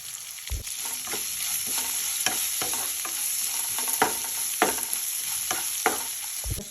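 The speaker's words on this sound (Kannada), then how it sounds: "ಅದ್ರ ಜೊತೆಗೆ ಟೊಮೆಟೊನೂ ಹಾಕ್ತಾ ಇದ್ದೀನಿ. ಇದನ್ನು ಚೆನ್ನಾಗಿ ಹುರ್ಕೊಳ್ಳೋಣ." Tomato frying in a pan for ridge gourd chutney, with steady oily sizzling and repeated sharp scrapes of a spatua stirring at irregular intervals, close and moderately loud with no voices.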